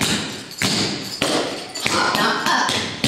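Tap shoes strike a hard floor in a routine to "Friend Like Me", with sharp, close, loud taps and stomps landing in uneven bursts about every half second.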